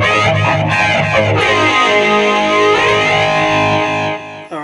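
An electric guitar played through a BOSS eBand JS-10 with a heavy 80s-style distorted tone rings out loud and sustained with chorus shimmer, a few picked notes leading into a long ringing chord that cuts off.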